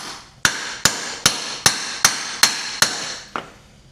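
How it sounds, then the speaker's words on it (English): Hammer blows pound a stuck part out of a Chevy 250 inline six engine, eight sharp metallic strikes at a steady rhythm, close and loud, the last one lighter, with no talking. "Just gotta keep pounding on it"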